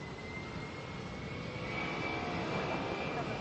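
A jet airliner taking off from Atlanta's airport, its engines producing a steady, loud roar with a faint whine that swells slightly over a few seconds.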